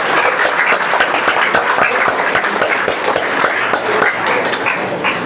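An audience at a school programme claps, a loud, close and continuous patter of hands with murmuring voices mixed in beneath it.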